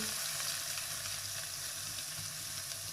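Chopped onion sautéing in a pan for Punjabi kadhi pakora, giving a steady, dense sizzle that holds evenly throughout with no talking.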